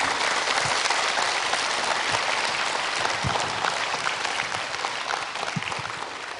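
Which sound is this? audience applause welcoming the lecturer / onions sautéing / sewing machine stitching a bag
audience applause welcoming the lecturer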